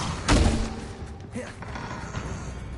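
A Bombarder spell strikes in Hogwarts Legacy: one heavy, booming blast lands early and loud, then rumbling game ambience trails off behind it.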